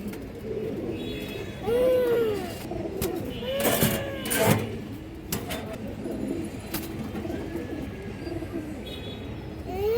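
Pigeons coo repeatedly in soft rising and falling calls from a pair of silver khaki pigeons kept at home, with small rustles and clinks nearby and a few other birds faintly in the background.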